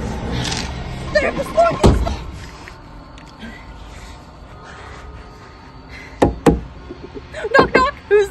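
Several sharp knocks land on a door in short bursts, loud and close, spread across the clip with voices heard between them.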